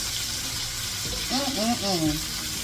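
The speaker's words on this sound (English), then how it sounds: "you can see our peppers and onions are sauteing nicely as well in here" Peppers and onions sauteing in a pan for Jamaican brown stew chicken give a steady, close sizzle throughout, with a voice talking over it in the second half.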